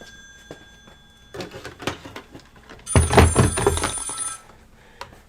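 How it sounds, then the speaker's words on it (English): A telephone rings with an incoming call, a faint steady tone at first, followed by louder clattering and handling noises nearby. "I think a phone call was coming through"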